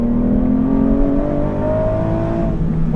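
An Aston Martin V12 Vantage S with a manual gearbox drones loudly from inside the cabin, its big V12 engine holding a steady, slightly rising rev without any talk over it.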